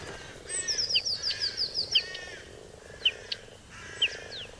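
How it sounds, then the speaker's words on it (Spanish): Northern whinchat singing in a wild German green-belt habitat, giving a rapid series of short, bright chirping notes followed by isolated clear calls, fairly close against a quiet, low background. "También es un biotopo ideal para la taravilla norteña"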